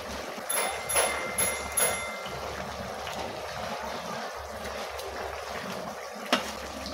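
Fish curry gravy for pasha fish jhal with onion stalks simmers in a pan as pieces of fried fish go in, a steady watery bubbling with a few brief splashy bursts near the start, no talk.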